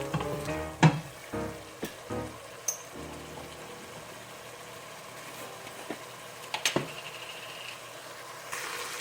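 Turmeric and spices fry in ghee with a faint steady sizzle, broken by occasional clanks and scrapes of stirring in the pan.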